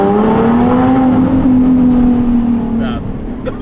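Inside a tunnel, a Nissan 370Z engine revs hard, its loud, close tone climbing and holding before easing off, with the enclosed space amplifying the sound.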